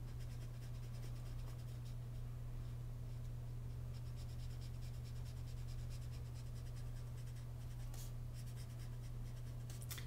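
A Copic marker colors in a base area on thick white cardstock, giving soft continuous scratchy rubbing strokes over a steady low hum, quiet and close, without talk.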